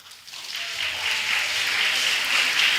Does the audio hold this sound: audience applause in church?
yes